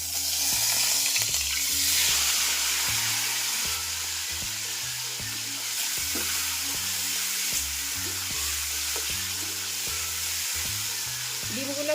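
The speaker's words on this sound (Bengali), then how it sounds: "আমি সেদ্ধ ডিমগুলো কড়াতে একটু ভাজা ভাজা করে নেব" Boiled eggs frying in hot oil in a kadai, a steady close sizzle under repeated scraping and stirring of the eggs against the pan, with a few clinks, and no voices.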